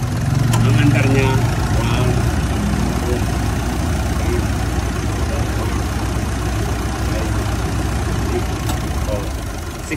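A Mitsubishi Montero Sport engine runs at a steady idle, a loud low rumbling drone that stays constant throughout, with people talking over it.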